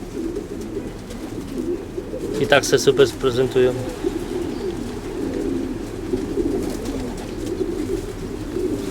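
Racing pigeons coo in a loft on a hot day, with soft low calls running throughout and a closer burst of cooing. Someone talks over them now and then.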